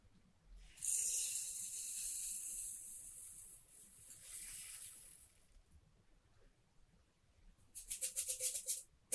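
Dry rice grains rattle and hiss inside a homemade wooden cajon box, a sustained swishing roll for several seconds, then a burst of quick shaking rattles near the end, close and fairly soft.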